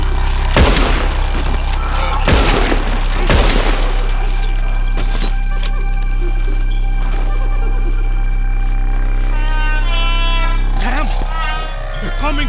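Gunfire in Red Dead Redemption 2: a few loud gunshot bursts near the start, then a long stretch of steady game background with voices speaking over it.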